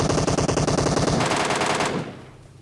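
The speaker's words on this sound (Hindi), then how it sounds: "एक बंदा मुझे कार 98 का सप्रेस्ड फायर करके बुलाता है" Rapid, rhythmic bursts of suppressed Kar98 rifle fire in a video game, loud and close, pulsing steadily before cutting off and fading to quiet near the end, with no talk.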